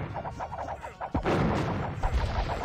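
Cannons fire during an Age of Empires II battle, a sharp boom cutting through repeated rhythmic game sound effects, followed by heavy rumbling blasts and clatter at close, loud range.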